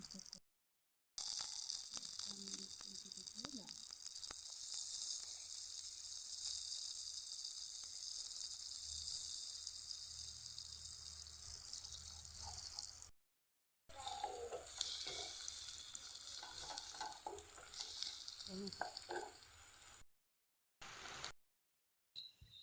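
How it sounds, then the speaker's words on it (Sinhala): Egg seasoned with salt and pepper fries in hot oil, a continuous bright sizzle with brief stirring scrapes, broken by a few short silent gaps. "ලුණු කුඩු ටිකක්, ගම්මිරිස් කුඩු ටිකක් මේ විදිහට දාලා මම මේ බිත්තරේ හොඳට බැද ගන්නවා."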